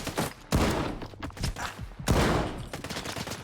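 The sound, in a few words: shotgun firing in video game STALKER 2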